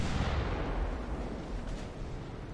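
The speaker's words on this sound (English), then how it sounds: "Hey, we got our first torpedo hit." A torpedo strikes a warship in the naval battle game Ultimate Admiral: Dreadnoughts, set at the 1942 Battle of Savo Island: a muffled, distant blast with a rumbling low roar that persists steadily, fairly quiet overall, with no voices.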